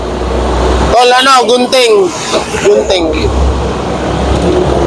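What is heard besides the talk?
trucks passing by on the street outside TV5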